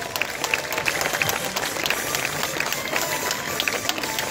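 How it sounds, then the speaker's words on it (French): An outdoor crowd applauds steadily at a costume parade in the park at Vichy, with dense, continuous clapping close by throughout. "Tous vos applaudissements du public, merci."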